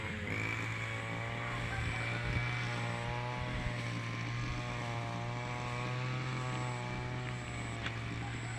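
A grass cutter engine drones steadily with a strong low tone and layered whine, running continuously at close range without pause.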